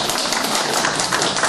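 Audience applause after a song at a mission seminar, a dense steady wash of many hands clapping filling a short stretch without pause.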